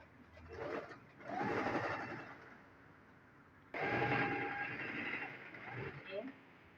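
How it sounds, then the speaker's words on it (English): A sewing machine stitches a trouser crotch seam in two bursts of steady whirring separated by a short pause, with someone talking over it. "So take it to the sewing machine."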